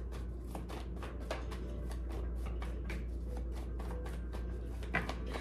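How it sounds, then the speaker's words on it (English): A deck of cards is shuffled during a tarot reading, producing a steady run of quick riffling flicks and soft slaps, close and alone, with no talking. "Shuffle for Taurus."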